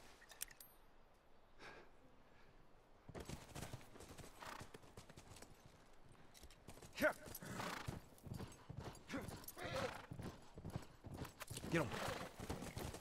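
Horse hooves clip-clop in The Last of Us during a speedrun, a steady run of mid-distance hoofbeats with an occasional whinny, heard under ongoing talk and game sounds.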